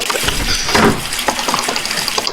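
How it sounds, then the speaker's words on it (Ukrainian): Water runs from a tap in a video game, a steady broadband gush with a louder surge near the start, continuing without voices. "Йдемо виключати воду під краном."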